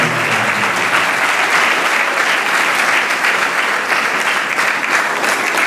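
Applause at a Christmas concert in a municipal auditorium, dense and loud clapping from a large audience that stays even and sustained throughout, with no voices on top.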